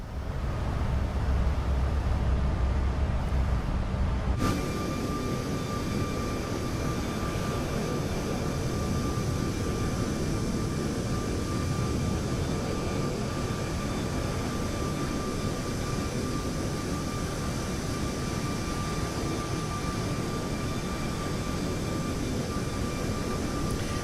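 Jet engines of a Boeing 737-8 MAX in Microsoft Flight Simulator roar steadily after a shift in tone, a dense constant whine and rush that continues unbroken with no talk.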